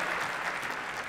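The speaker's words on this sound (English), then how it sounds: "The crowd really enjoying this exciting tiebreak." Crowd applauding during a tiebreak, a brief, steady burst of clapping heard from a moderate distance.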